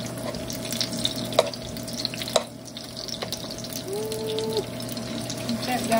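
Salmon burger patties fry in a pan with a steady low sizzle, a few sharp pops and clicks on top, and a voice talking intermittently.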